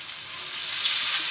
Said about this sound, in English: you hear it nice and sizzling